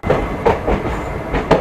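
Indian Railways train at Barabanki Junction station, heard from on board in AC second class, with loud rhythmic clickety-clack of wheels over rail joints and a steady rumble, close and continuous.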